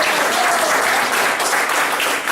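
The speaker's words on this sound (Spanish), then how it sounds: "Denle un aplauso al Señor." A church congregation breaks into sustained, dense applause throughout the short stretch, loud and even, with no voices standing out.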